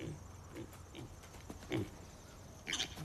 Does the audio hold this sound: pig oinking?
yes